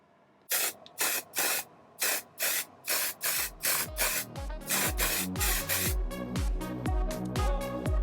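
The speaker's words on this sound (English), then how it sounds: "let's degrease it and give it a coat of primer" Spray can of primer coating a BMW E30 325i ATE brake master cylinder: a series of short, sharp hissing bursts, about nine evenly spaced, then quicker repeated spurts with rattling.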